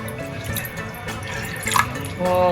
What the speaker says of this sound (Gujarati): ગેસ ઓન કરીશું, બાઉલ મૂકીશું અને અડધો ગ્લાસ જેટલું પાણી એડ કરીશું